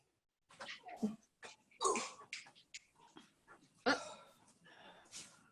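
A dog snuffles, whimpers and makes short huffing noises in a quiet room, with soft breathy sounds scattered irregularly.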